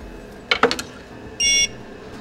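Kiosk scanner beeps once, short and clear, as a member card is tapped on it, following a few soft clicks and taps in a quiet room.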